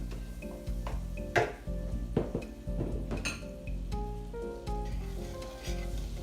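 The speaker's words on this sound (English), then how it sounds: "I'm going to put 3 tablespoons of butter." Butter sizzling steadily in a pan as the start of a bechamel white sauce for mac and cheese, a continuous crackle with a few louder clinks and stirring scrapes, with a low hum running underneath.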